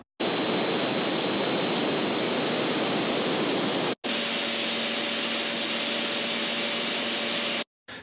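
A 50 mm blower fan whirs with a steady broadband rush, then after a brief gap a 30 mm blower fan takes over with a similar airy hiss and faint whine, each running alone.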